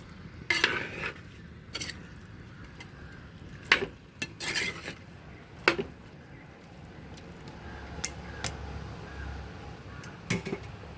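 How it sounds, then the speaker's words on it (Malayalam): Close, intermittent scraping and clanking of a spoon stirring chicken curry with cloves in a metal pot, with sharp knocks against the rim and a faint sizzle underneath during quiet stretches. "ഇനി ഇതാ ഇത്രയും ഗ്രാമ്പൂട്ട് ഇട്ട് കൊടുക്കുന്നുണ്ട് ഇനി നമുക്ക് ഇളക്കിക്കും"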